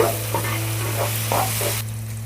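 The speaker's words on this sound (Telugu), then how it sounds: "ఇప్పుడు అల్లం వెల్లుల్లి పేస్ట్ 1 స్పూన్ వేసుకొని ఇది కూడా పచ్చివాసన పోయేంత వరకు వేయించుకున్నామండి." Ginger garlic paste and tomato fry in a pan for a chicken curry, a steady close sizzle with a few soft stirring scrapes, then cutting off abruptly near the end.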